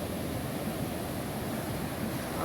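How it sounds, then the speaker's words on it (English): Whitewash from breaking ocean waves on a Central American beachfront makes a steady, even roar of broadband surf noise, soft and continuous with no distinct individual breaks. "what this whitewash is very good for is white noise"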